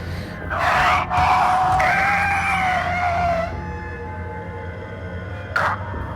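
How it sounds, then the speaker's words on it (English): Creature screaming in a horror video game, a long, loud, shrill wavering shriek lasting a few seconds, then fading into a quieter ambience with a brief sharp noise near the end. "Oh my god, you hear that scream?"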